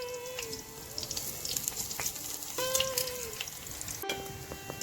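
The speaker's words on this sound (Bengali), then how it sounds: "এভাবে ভালো করে তেল দিয়ে 2 পাশ লাল লাল করে ভেজে নেব।" Lentil fritters frying in oil in a pan, a soft steady sizzle with occasional clinks of a utensil and a few brief tonal squeaks.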